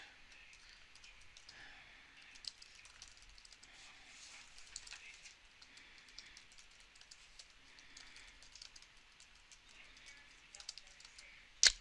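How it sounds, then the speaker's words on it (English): Soft, quiet keyboard typing with irregular clicking keystrokes throughout, ending in a slightly louder click. "I'm just typing something."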